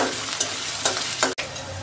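A spoon stirs onions and curry leaves frying in oil, with a steady sizzle under several scraping strokes and a sharp knock near the end.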